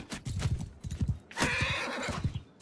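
A horse shot in the throat whinnies loudly in the middle of a Mount & Blade II: Bannerlord skirmish, framed by quick, rhythmic galloping hoofbeats before and after, all close and busy.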